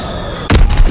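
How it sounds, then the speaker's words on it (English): An Azon bomb drops and explodes during a Domination match in Call of Duty: WWII, a sudden loud deep boom after a steady hum, followed by rumbling blasts. "Dropping Azon bomb."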